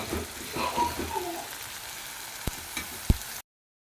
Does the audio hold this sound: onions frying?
yes